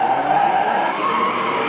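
A race car in the Sega Virtua Racing arcade game accelerates with a loud, steady engine whine that climbs gently in pitch, with tire noise and no talking.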